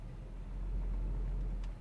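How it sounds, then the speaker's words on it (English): A 1969 Chevrolet Chevelle SS engine idles steadily, a low, smooth, continuous rumble heard close up with no talk. "Nice, smooth idle. Not stalling out, not choking for fuel,"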